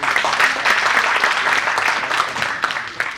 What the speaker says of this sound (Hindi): अब एक बार जोरदार तालियां हमारे सारे प्रतिभागियों के लिए भी हो जाएं